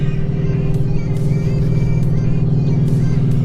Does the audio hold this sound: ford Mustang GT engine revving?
yes